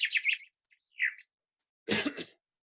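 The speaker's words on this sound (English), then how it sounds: "So we've heard enough of the chaffinch." A chaffinch sings a short burst of bright chirping notes, quick and clear in otherwise silent air, followed a moment later by a single brief, rough noise burst.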